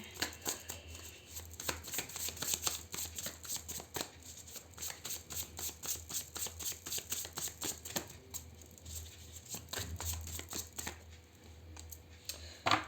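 Tarot cards being shuffled by hand for another draw, a steady run of soft riffling and slapping card sounds lasting several seconds, fairly close and alone without talk.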